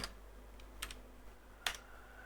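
A few faint, separate keystrokes on a computer keyboard as a spreadsheet cell formula is typed, each a short click over a quiet room hum.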